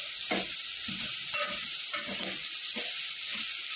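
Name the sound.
stirring ivy gourd pieces frying in oil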